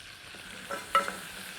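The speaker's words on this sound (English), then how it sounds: "now the butter's starting to bubble, you can put in our flour" Flour going into bubbling melted butter for a roux, the base of a cauliflower cheese sauce, with a quiet, steady sizzle and a brief soft stirring scrape near the middle. No talking.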